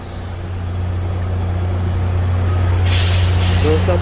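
A train idles at Union Station in Canada with a steady low mechanical hum, then sharp bursts of air-brake hiss near the end, with faint voices in the background.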